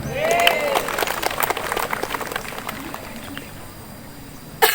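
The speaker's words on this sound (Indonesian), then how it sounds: "Tepuk tangan, tepuk tangan." Scattered audience clapping at an outdoor 79th Indonesian Independence Day flag ceremony held by the South Tangerang religious affairs office at MAN IC Serpong, mixed with voices and a brief whistle-like tone, thinning out toward the end.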